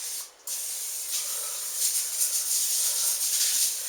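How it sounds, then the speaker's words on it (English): A close aerosol cooking spray hisses steadily onto a sheet pan for a few seconds after a brief pause at the start, with soft pulsing bursts. "Spray down your sheet pan."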